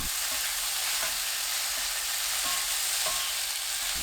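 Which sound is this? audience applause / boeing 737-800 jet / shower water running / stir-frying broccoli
stir-frying broccoli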